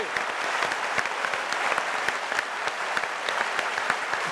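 An audience at the Parlement du Rire comedy show claps to register a vote, a broad bed of applause punctuated by many distinct sharp hand claps in quick irregular succession, fairly close and moderately loud.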